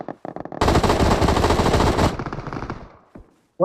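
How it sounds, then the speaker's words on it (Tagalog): PUBG Mobile gunfire: a sustained burst of rapid automatic shots rattles loudly for about a second and a half, preceded by a few scattered single shots and trailing off into echo. "Baril lang tayo dyan."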